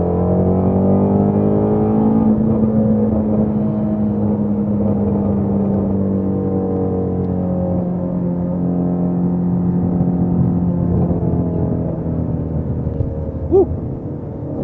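A Ford Mustang GT350 engine holds a sustained, loud drone that climbs and falls in pitch as it revs while driving, ending with a brief sharp pop near the close.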